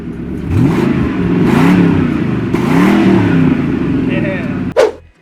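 A 2002 Ford Mustang GT, completely original, revving in two long rising-and-falling pulls of a throaty V8, loud and close, ending in a sharp click and brief thump.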